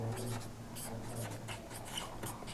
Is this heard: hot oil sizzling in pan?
no